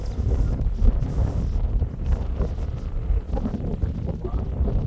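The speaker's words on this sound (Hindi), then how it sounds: "बड़ी ज़बरदस्त किस्म की हवा चल रही है" Strong wind roars across the Fort Munro hilltop in Pakistan, a loud continuous buffeting rumble battering the microphone throughout.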